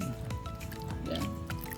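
Water is poured onto a food heating pack, giving a short close liquid splash and gurgle with a wet fizzing edge.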